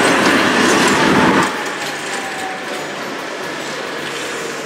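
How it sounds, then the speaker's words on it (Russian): A tram passes along a street in Samara with a loud, close rumble in the first second and a half, then fades to a steadier, quieter rolling noise. "Ой, трамвайчик."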